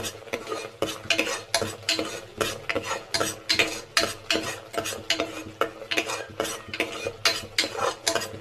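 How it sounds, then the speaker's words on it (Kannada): A spoon scrapes and clanks rhythmically in a pan as garlic, ginger and onion fry for country chicken sambar, repeated stirring strokes over a soft sizzle, close and fairly loud. "ಇದೇ ಥರ ಕೈ ಹಾಕ್ತಾ ಇದ್ದೀನಿ"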